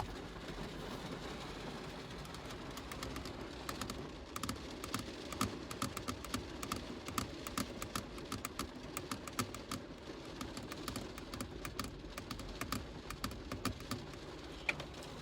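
Fingernails tap on plastic inside a car, likely over rain, in quick light clicking bursts that grow denser and more irregular after the first few seconds, close and fairly quiet with no voices.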